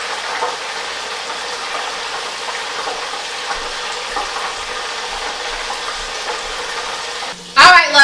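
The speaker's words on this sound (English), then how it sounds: "I'm going to go ahead and finish frying up the fish." Continuous sizzling of catfish frying in hot oil in a deep fryer, steady and close, ending with a brief louder clatter.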